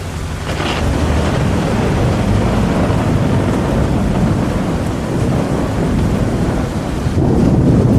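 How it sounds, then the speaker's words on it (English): Steady heavy rain with gusting wind buffets the microphone throughout, a dense continuous roar swelling slightly near the end, heard during a motorcycle tour on the south coast of Central Sulawesi, Indonesia. "Let's hope this rain stops a bit."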